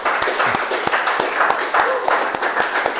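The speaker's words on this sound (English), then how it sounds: "So huge round of applause for our PO as well." Members at a club meeting give a round of applause for the presiding officer, with sparse, separate claps over a background of room noise and murmur.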